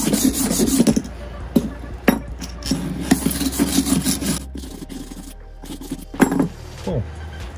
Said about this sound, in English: Just take the wire brush or a stiff brush, clean it up, get all the